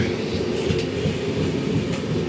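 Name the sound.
Goa Sampark Kranti express train 12450 running at speed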